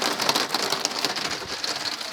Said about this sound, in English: It's extreme rainy, and this is only the first part.